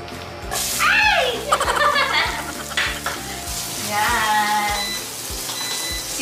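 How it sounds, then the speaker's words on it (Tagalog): Vegetables fry in a pan with a loud continuous sizzle and scraping stir strokes, close and busy throughout, with brief beeping tones mixed in. "pwede na natin prituhin ang ating mga veggies"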